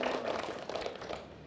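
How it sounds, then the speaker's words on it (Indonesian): Applause from a school audience for SMP Muhammadiyah 1 Palu at a televised quiz event, steady dense clapping filling the whole moment at moderate level. "Kita kasih tepuk tangan dulu untuk SMP Muhammadiyah 1 Palu"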